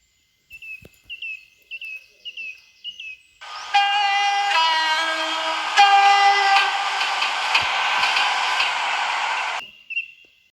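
A five-car passenger train in the video game Ro-Scale Railway approaches and passes, a loud horn blast over the rolling rumble of carriages lasting several seconds, following short chirping tones, then ending abruptly.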